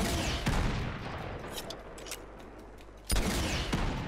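Gunfire in the action game Uncharted 2 with continuous battle noise, scattered shots and two heavy blasts, one at the start and one near the end, loud and close with no talk.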